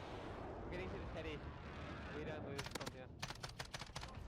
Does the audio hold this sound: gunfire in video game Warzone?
yes